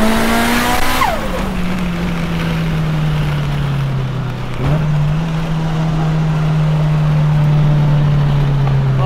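A Mitsubishi Evo race car drives fast, its engine a loud, steady drone that dips and then recovers midway. Any tire squeal is hard to pick out beneath the engine.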